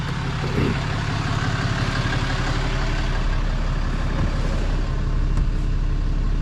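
A deleted Ram 3500 pickup with nearly 200,000 miles idles with a steady, close, low diesel rumble throughout, with no voices.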